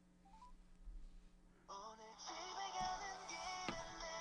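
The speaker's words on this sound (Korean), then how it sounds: "노인복지관 관장님하고 한번 전화 통화를 해서" A telephone is dialed for a live call on a local FM radio show, a short run of dialing tones followed by a sustained ringback-like tone, moderately loud and up close with no talk.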